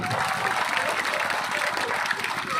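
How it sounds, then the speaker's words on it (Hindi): Crowd clapping at a farmers' protest rally at a border site, a thick, continuous wash of applause from many hands sustained at even loudness throughout. "ताली बजाने से काम नहीं होगा"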